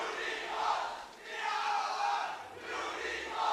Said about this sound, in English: the crowd may be going wild